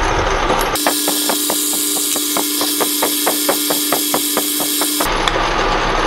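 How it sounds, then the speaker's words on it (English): A quarter inch bit drills through metal, a steady machine hum with evenly spaced rhythmic ticks running for about four seconds between quieter stretches, no talk. "We're gonna drill all the way through."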